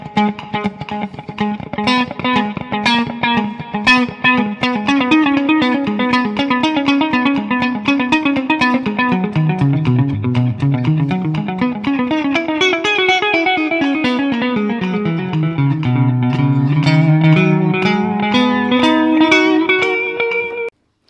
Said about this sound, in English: Last but not least, the delay.